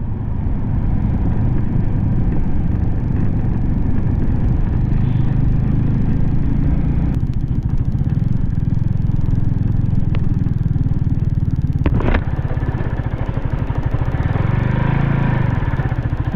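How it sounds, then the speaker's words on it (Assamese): A motorbike ridden through thick cloud near the Seven Sisters falls in Cherrapunji, its engine a close, steady low drone with wind rush and a couple of sharp clattering knocks along the way. "মই ডাৱৰৰ মাজত বাইক চলাই আছো"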